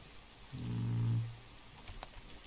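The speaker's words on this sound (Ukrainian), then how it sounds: "Бляха і дощ. Я не хочу в дощ, я тільки висох." Steady soft rain in the survival video game DayZ forms a faint, even hiss throughout, with a brief low droning hum partway through and no talk.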